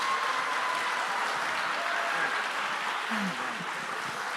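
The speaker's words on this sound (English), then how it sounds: "please give a big round of applause to Slaven Mislencevic" An audience at the EURAXESS Biennial Conference 2024 applauds, with steady, moderately loud clapping that continues evenly throughout.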